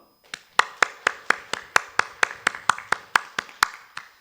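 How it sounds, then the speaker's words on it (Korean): A church congregation at a Sunday morning service claps in encouragement, a steady run of about fifteen sharp, evenly spaced hand claps that start softly and settle into a firm rhythm, with no talk over them. "여러분 큰 박수로 격려해 주시길 바랍니다"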